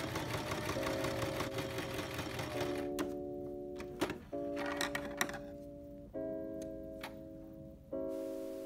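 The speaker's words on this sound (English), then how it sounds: "you're going to set your sewing machine to the longest stitch possible." A sewing machine set to its longest stitch runs a gathering stitch along fabric for a dress, a steady mechanical whir in several running bursts broken by brief pauses and small clicks.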